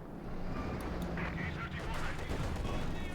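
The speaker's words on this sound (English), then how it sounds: "Ganesh being sniped there." A sniper rifle shot lands amid the din of a Company of Heroes 2 battle, a sharp crack within continuous gunfire and explosions while a commentator talks over the action.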